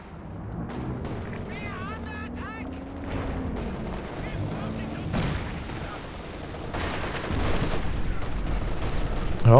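Tank guns firing in a Company of Heroes 2 match, repeated heavy shots and battle noise layered under steady commentary talk.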